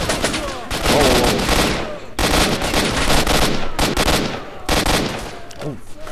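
Rapid automatic gunfire from the S.T.A.L.K.E.R.: Shadow of Chernobyl video game, loud bursts in three long volleys with brief gaps between them, close and dominating.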